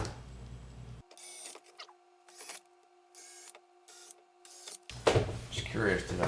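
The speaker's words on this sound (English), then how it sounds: "All right, all 8 screws are drilled." Power drill boring screw holes while fitting a kitchen trash can slide-out: several short whirring bursts separated by near-silence, then louder rustling handling noise at close range.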